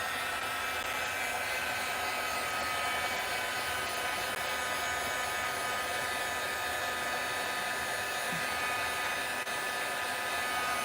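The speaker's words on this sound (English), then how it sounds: "let me hit it with the heat tool" Heat tool blowing steadily on a layered craft card, a constant loud whooshing drone that lasts the whole stretch with no talk.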